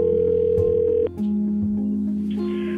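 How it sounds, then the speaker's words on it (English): A telephone dial tone hums steadily, then switches after a click to a different sustained tone, with faint dialing or line noise near the end, heard alone and close. "call an individual on the phone"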